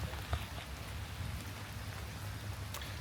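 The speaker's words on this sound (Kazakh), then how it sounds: "потому что жаңбыр тоқтамайтын түрі бар." Steady rain falls outdoors, a dense, even hiss of drops with a few louder close patters, continuous and moderately loud, with no voices.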